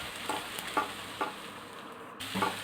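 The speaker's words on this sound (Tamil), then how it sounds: "இஞ்சி பூண்டு பேஸ்ட் வந்து ஆட் பண்ணிக்கங்க. ஆட் பண்ணிவிட்டு நல்லா வந்து மிக்ஸ் பண்ணி விட்டுக்கலாம்." Ginger garlic paste being stirred into onions frying in a pan for a mushroom masala, with a steady low sizzle and soft periodic scrapes of the spoon, close and fairly quiet.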